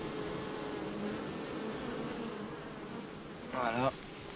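Disturbed honeybee colonies hum in a dense, continuous buzz, with one bee zipping close by near the end; no speech.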